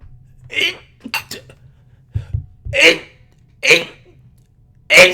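An unusual, squeaky sneeze bursts out several times in a row, short sharp broadband bursts spaced about a second apart, close and fairly loud against a quiet background, with a small clatter in between.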